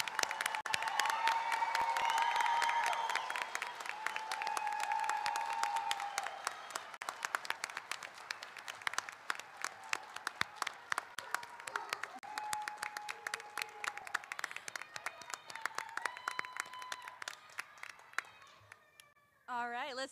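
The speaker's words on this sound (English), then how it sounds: "we will give you one final great clap." Graduating nursing class at a university pinning ceremony receives loud, sustained applause from the audience, with scattered cheers, the clapping fading toward the end.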